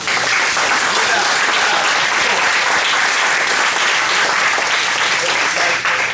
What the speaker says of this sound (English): Let's give a loud shout out and a big hand clap for your parents.